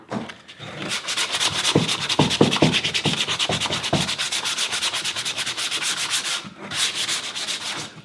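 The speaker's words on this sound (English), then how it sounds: "All you're trying to do is remove the scratches from the 80 grit." Sandpaper is rubbed by hand across the wooden underside of a toy crossbow to smooth out 80-grit scratches. The close, steady back-and-forth strokes run nearly continuously, with one brief pause before the sanding resumes.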